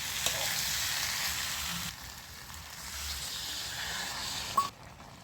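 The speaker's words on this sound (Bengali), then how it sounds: "এবার আমি একটু পরিমাণ মতো জল দিয়ে দিচ্ছি অল্প করে।" Potatoes and snake gourd frying in spices in a pan hiss with a loud, steady sizzle. The sizzle drops sharply as a little water goes in, then swells again before a brief clatter near the end.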